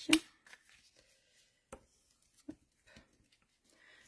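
Paper from a treat box kit being folded and creased by hand, heard as a few sharp crinkles and taps spaced irregularly, faint and close, with long quiet gaps between.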